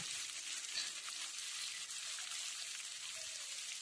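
Spice-marinated fish frying in a hot pan, giving a soft, steady sizzle and crackle that stays even and fairly quiet throughout.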